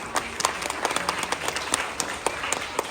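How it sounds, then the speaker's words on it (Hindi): Applause from an audience at a Hindi political speech on education and Bahujan rights, heard as a steady patter of scattered hand claps with sharper individual claps standing out across the three seconds. "एक बार आप लोग ताली बजाइए"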